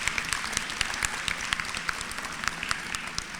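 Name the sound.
applause at gala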